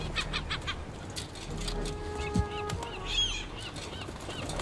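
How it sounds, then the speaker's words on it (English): Geese honking in the Concrete Genie game over a steady ambient background, with several short calls scattered through the clip and a brief tonal chime partway through. "Look at these dumb birds."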